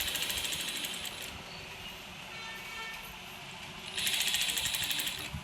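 Sewing machine stitching a pleat on a silk pattu pavadai skirt, a close, continuous mechanical whir with rapid needle clatter that swells louder near the end.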